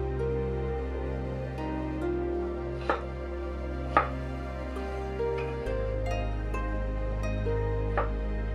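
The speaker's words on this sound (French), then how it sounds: "puis les couper en petits cubes" Food cut into small cubes for a Vietnamese nam van dessert, sharp knife taps on a board at irregular intervals over a steady background hum, close and distinct.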